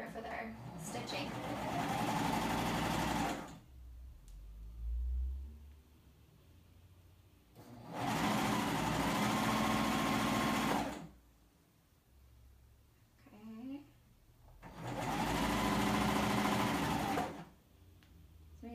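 Sewing machine stitching side seams on a rayon spandex swing dress with dark army green thread, run slowly in three separate bursts of steady whirring, each a few seconds long, with quiet pauses and handling sounds between.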